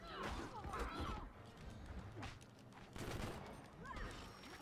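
Gunfire in the fighting game Injustice: Gods Among Us, with rapid shots and impact hits mixed with game effects and voices, heard fairly quietly overall.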